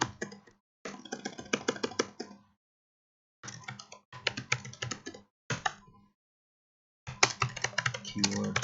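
Bursts of typing on a computer keyboard, close and clear, with rapid clicking keystrokes coming in several runs separated by short pauses.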